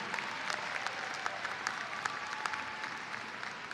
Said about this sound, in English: Can we give our staff another round of applause sitting up in the box here?